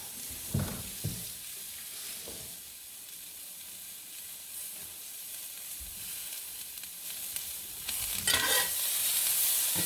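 Peppers and onions frying in a pan for shrimp fajitas: a steady sizzling hiss throughout, with a few stirring knocks and scrapes near the start and again toward the end, nobody speaking.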